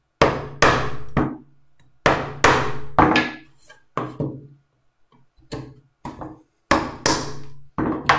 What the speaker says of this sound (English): That should pop out in 1 or 2 blows of the chisel here.